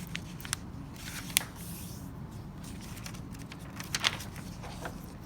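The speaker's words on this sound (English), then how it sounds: "Cut from the corner to the center." Scissors snip through paper cut from corner to center of a square sheet, a few quiet crisp clips spaced apart over a faint background hiss, with no talking.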